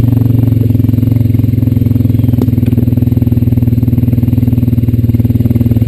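Honda Rancher 420AT ATV riding along a woodland path, its engine droning steadily and loud up close with a low rhythmic pulse and faint clatter throughout.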